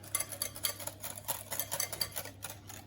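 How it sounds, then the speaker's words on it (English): A whisk beats vinegar into hollandaise sauce in a bowl, producing quick, rhythmic light ticking and clinking strokes, close up and fairly quiet, with no voices. "Again, just a tiny amount of the vinegar. Whisk that in."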